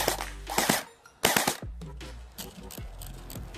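Airsoft gun firing full auto at a cardboard target, a few close, rapid rattling bursts separated by short gaps, with some low background noise.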